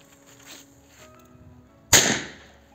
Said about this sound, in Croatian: Znači, palimo petardu da vidimo šta će se desiti.